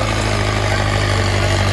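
Tractor engine running steadily, either a Mahindra 585 4x4 or an Arjun 605 Novo, a loud constant drone with a low rhythmic throb and no pauses, close to the listener.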